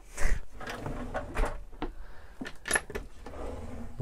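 Kitchen drawers in a 2020 Mobilvetta Krosser 86 motorhome being slid open and shut, giving a few close, sharp knocks and rolling slides in quick succession with no talking.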